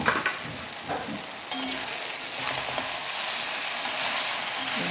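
Cabbage fries in ghee in a pan, giving a steady, close hiss and crackle that holds for the whole stretch, with small stirring scrapes now and then and no voices.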